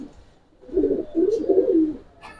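A pair of Muslodom pigeons coos in a low, rolling series of throaty phrases lasting over a second, close by and fairly loud, with a brief rustle near the end.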